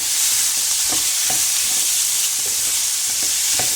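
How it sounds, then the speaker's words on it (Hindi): Half a kilo of boneless chicken fries in a pan with a steady, close broadband sizzle, broken by occasional soft scrapes as it is stirred. "ये हाफ़ के जी बोनलेस चिकन है। आप यहाँ कीमा भी यूज़ कर सकते हैं। इसे उस वक्त मैं फ्राई करूँगी जब तक इसका कलर नहीं चेंज हो जाता।"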